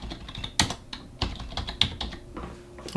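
Brisk typing on a computer keyboard, a quick run of close, crisp key clicks at an uneven rhythm, fairly quiet with no voices.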